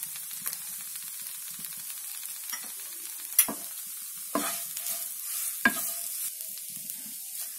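A spoon scraping and stirring samosa stuffing in a pan over a low flame, with a soft sizzle underneath and several distinct scrapes spaced out over several seconds, close and without any talking.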